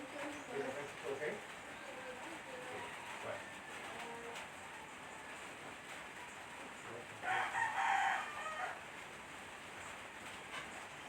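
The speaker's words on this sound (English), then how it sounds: "That's my chicken, guys," A rooster crows once in the morning, a short strained call partway through, faint behind low-level background noise.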